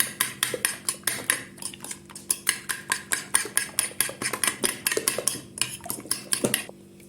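A spoon stirs a grated zucchini mixture seasoned with salt, red pepper powder and chili flakes, clinking against the bowl in a quick, steady rhythm of sharp taps that continue nearly without pause.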